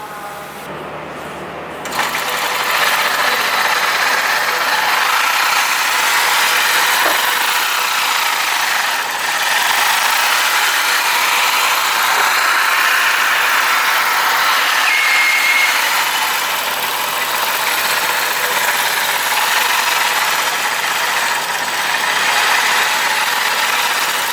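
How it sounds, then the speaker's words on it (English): Steady mechanical whirring and rapid stitching hum from a Juki TL2200QVP home quilting machine, running continuously at close range after a brief quiet start. "This is a home quilting machine that will do much easier quilting than our normal sewing machine."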